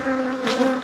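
Honey bees buzz during the transfer of a highly selected colony, a close, loud, continuous drone with a slight swell in the middle, heard alone without talk.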